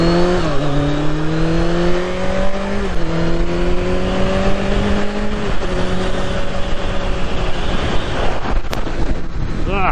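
A car pulls out in front of a Kawasaki Z900 motorbike on the road, heard as a loud motorcycle engine climbing in pitch through gear changes amid heavy wind noise.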